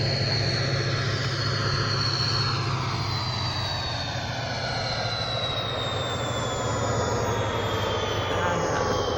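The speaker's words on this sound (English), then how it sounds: "This is the most throttle up that you're gonna get on this route." A diesel locomotive works at full throttle on the CSX Hanover subdivision in the Train Sim Classic game, a loud, steady engine roar with a low drone and a slowly falling whine that holds throughout without talk.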